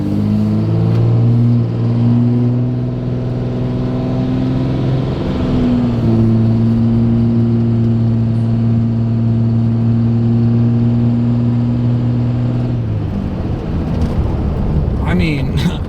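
A Cummins 5.9 diesel engine running on ATF revs loud and close, holding a steady high idle that hangs before dropping away, then breaks into rough clattering near the end.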